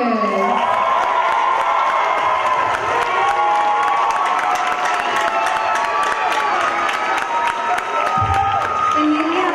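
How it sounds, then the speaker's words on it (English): A theatre audience at a curtain call claps and cheers loudly and steadily after a show, with dense applause, whoops and shouts throughout, including some children's voices. "Please join us in giving a big round of applause to our amazing crew and singers."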